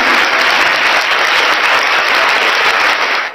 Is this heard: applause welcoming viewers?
yes